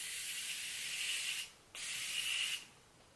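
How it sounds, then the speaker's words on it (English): Two quick hissing bursts of Morphe setting spray mist onto a face, close and soft, separated by a brief pause. "I love the setting spray."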